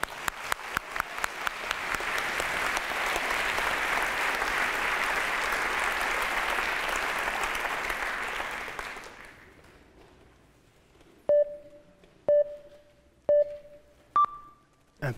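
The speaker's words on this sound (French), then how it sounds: "Merci d'applaudir bien fort Pierre Siegenthaler." An audience at a university research-talk final claps warmly, starting with scattered claps that build into full applause before dying out, followed by four or five sharp electronic pings.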